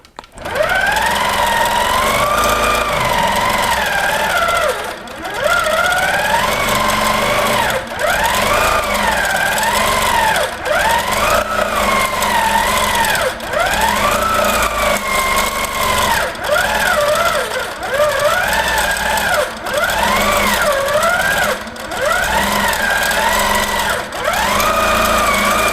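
Handi Quilter quilting machine stitching a quilt, a loud, continuous motor whine that rises and falls in pitch as speed changes, broken by brief pauses, with no talking.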